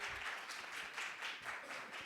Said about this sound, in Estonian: keda saal praegu tervitab aplausiga